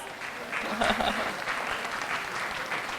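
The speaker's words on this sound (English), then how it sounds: "Let's give them a round of applause." An audience at a school diversity festival applauds volunteers on stage, producing steady, fairly loud crowd clapping that swells after a moment and holds for several seconds.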